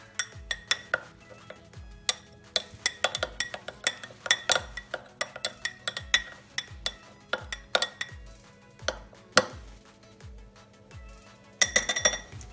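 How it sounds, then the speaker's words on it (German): A spoon stirs a smoothie in a glass, giving light, close clinks and taps in an irregular rhythm over a quiet background, with a denser flurry of clinking near the end. "Hier, schönen Löffel nehmen. So, dann umrühren."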